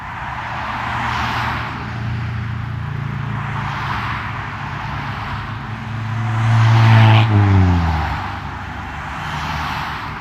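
A line of cars passes on a road outside San Francisco, steady traffic roar with one vehicle swelling louder and closer near the middle before fading, continuous broadband rumble throughout with no talk.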